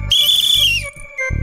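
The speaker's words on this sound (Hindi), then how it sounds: "लेकिन उनके गले से सीटी कैसे निकलेगी?" A loud, shrill whistle blows in a single sustained blast of nearly a second, pitch sliding slightly down at its end, heard up close in a Hindi TV serial scene.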